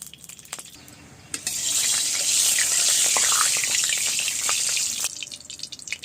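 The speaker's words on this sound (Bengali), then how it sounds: "কাঁঠাল আর আলুটা একটু ভেজে নেবা" Jackfruit and potato pieces drop into hot mustard oil in a wok, setting off a loud, steady sizzle that lasts several seconds and then drops off, with small clinks and drips before and after.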